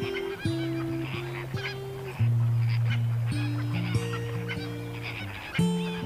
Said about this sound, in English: greater flamingos use this estuary to feed